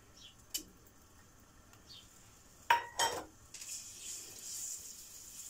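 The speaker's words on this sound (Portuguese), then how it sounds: "fritar aqui um pouquinho o alho" Garlic is tossed into olive oil in a pan, with a few metal clinks of utensils against cookware. A steady hissing sizzle then starts and carries on to the end.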